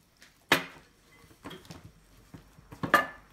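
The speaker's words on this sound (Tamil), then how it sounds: "எல்லா வெண்டைக்காலையும் நல்லா வந்து இந்த மசாலா கோட் ஆகிற மாதிரி நீங்கள் பிசைஞ்சுக்கோங்க." Okra being mixed by hand with masala and a little water in a bowl, giving a few sharp clinks and wet rustles, with three distinct bursts against a quiet background.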